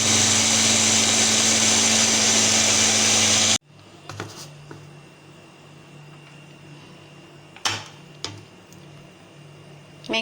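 An electric chopper whirs loudly and steadily as it chops bread slices into a meat mixture, then cuts off abruptly, leaving a quiet room with a few clicks and clatters.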